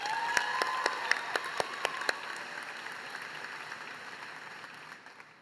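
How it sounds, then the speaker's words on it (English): Applause from an audience at a college commencement ceremony, a few distinct louder claps standing out early over a steady wash of clapping that gradually thins and fades toward the end. "I think she deserves another round of applause"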